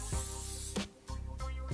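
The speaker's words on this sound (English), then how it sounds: "we're just gonna spray it with a little hairspray" Hairspray from an aerosol can is sprayed onto curled hair in three bursts, each a steady close hiss with short pauses between them.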